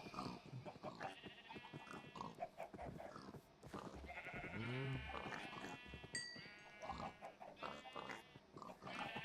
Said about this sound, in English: So let's get rushed by pigs.